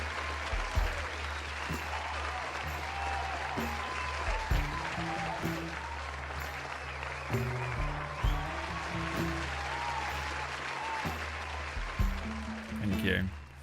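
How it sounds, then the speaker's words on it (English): Applause from a small online stream audience for a Dungeons & Dragons game, a steady wash of clapping with recorded chatter and laughter mixed in, plus a few distinct thumps, lasting the whole stretch. "That was a lot of applause for just 6 people, wouldn't you say?"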